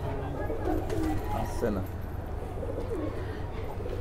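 White Ghaghra breed pigeons coo softly in a loft, low throaty calls repeating under a steady background hum while someone talks briefly nearby.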